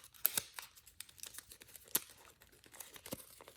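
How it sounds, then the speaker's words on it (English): Paper being folded and squash-folded for an origami F-35 jet, soft crinkles and crisp creasing snaps at irregular intervals, quiet and close with no talking. "Just fold this down, like squash fold it a little bit."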